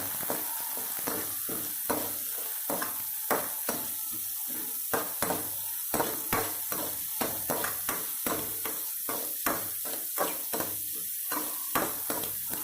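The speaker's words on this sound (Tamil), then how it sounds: "வெங்காயத்தை நல்லா வணக்கிக்கோங்க" Chopped onions sizzle steadily in a hot pan for crab gravy, interrupted by regular scraping stirs of a spoon, close and moderately loud with no talking.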